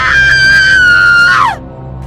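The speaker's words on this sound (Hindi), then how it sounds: "बहुत तेज चीख सुनाई दी" A loud, sustained high-pitched scream from a woman on a phone call, holding steady for over a second before sliding downward and cutting off abruptly, like a sudden horror-story shriek.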